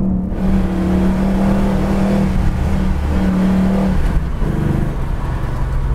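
A 1970 Ford Mustang BOSS 302 V8 revs hard on a downshift, a loud, steady, rumbling roar that rises and dips in pitch. It fills the whole six seconds with no speech.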